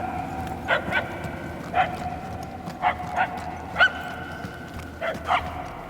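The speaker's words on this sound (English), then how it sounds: "The barking is getting fainter." A dog barks in Marvel's Guardians of the Galaxy, a string of short, fairly faint barks in pairs and singles spaced about a second apart, sounding somewhat distant over a low ambient hum.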